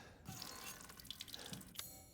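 Water dripping and running in Resident Evil Village, a quiet, steady wash of trickling water with scattered small drip clicks, heard alone without talk.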